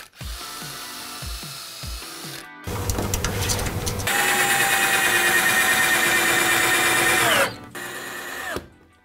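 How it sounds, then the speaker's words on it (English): A power drill driving four-inch screws through a wooden frame into ceiling joists for a chimney breast build: short whirring bursts, then a long loud sustained drive that winds down, close up, with no speech. "drill further pilot holes through the wooden frame, driving your screws into the ceiling boards, making sure that you bite firmly the joists above"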